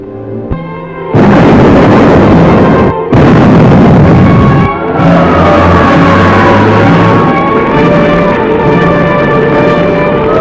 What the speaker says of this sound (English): The explosion was felt throughout this area.